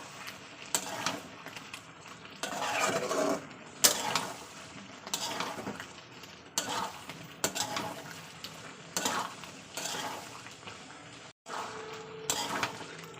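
Potato and bottle gourd with coriander paste being stir-fried in a pan: repeated scraping strokes of a spatula against the metal in uneven bursts, with a soft sizzle underneath and a brief pause near the end.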